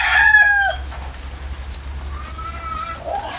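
A barako rooster crows loudly and close by at the start, followed by a fainter trailing call and low background rumble, with no talking.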